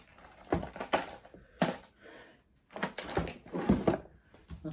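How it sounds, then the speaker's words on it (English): Someone rummages through a kitchen drawer, giving several bursts of clattering, knocking and sliding at close range, separated by brief pauses. "Something in this drawer so I don't have to get up,"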